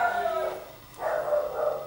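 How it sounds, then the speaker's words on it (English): A dog barks and whimpers in two short bursts separated by a brief pause, heard nearby at moderate level with no talking. "Dogs are barking."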